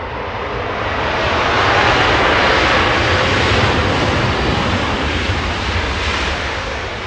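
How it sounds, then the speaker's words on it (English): An American Airlines A321neo lands at Los Angeles International Airport. Its broad jet roar swells, holds loud and steady, then eases slightly as the aircraft passes. "A321 Neo."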